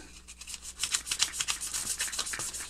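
800 grit sandpaper rubbed back and forth on a Wera L-key sleeve, producing a fine rhythmic scratching of quick strokes that grows louder after a quiet start, close up with no talk.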